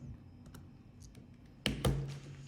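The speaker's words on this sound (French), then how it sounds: "J'appuie sur Enter" A single key press on a computer keyboard, Enter struck firmly, with a second louder clack just after, standing out over a quiet room hum.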